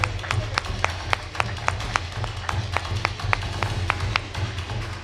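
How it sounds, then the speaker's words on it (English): Audience applause at an awards panel on workshop productivity: steady, rhythmic hand claps at even spacing over a low background hum. "The claps need to go on."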